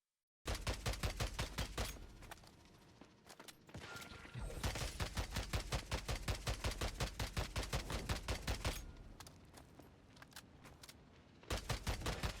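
Rapid, evenly spaced shots from the EBR rifle in a video game crackle in long bursts, each broken by brief pauses, loud and close with no voices.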